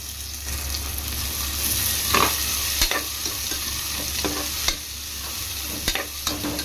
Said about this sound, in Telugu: ఆనియన్స్ కొంచెం మగ్గే వరకు ఫ్రై చేసుకుందాం